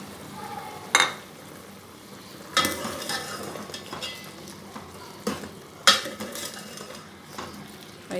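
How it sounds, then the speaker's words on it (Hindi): Chicken karahi pieces fry over high heat with salt, red chili, crushed chili and coriander powder, a continuous sizzle broken by several sharp spatula scrapes and clanks against the pan at irregular intervals. "फ्राई करते हैं।"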